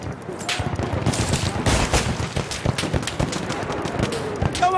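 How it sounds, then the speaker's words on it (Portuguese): Enemy machine gun fire in Battlefield 1 rattles in dense, rapid bursts with scattered louder shots, a busy battlefield din throughout. "É uma metralhadora inimiga!"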